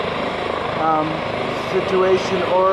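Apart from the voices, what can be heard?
helicopter at scene of hostage situation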